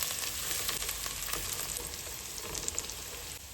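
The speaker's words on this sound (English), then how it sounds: "So we'll just fry that for a couple of minutes" Steady, fairly quiet sizzling of ingredients frying in a pan on medium heat for a chicken and mushroom curry, a continuous crackle with small pops and no voices.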